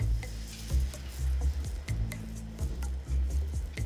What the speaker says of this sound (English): Next, we're going to grill this on a flat cooking top.